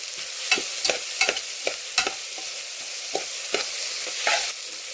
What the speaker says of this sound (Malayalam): കറിവേപ്പിലയിൽ വിട്ടിട്ടാണ് ഞാൻ ഇത് ഇളക്കുന്നത്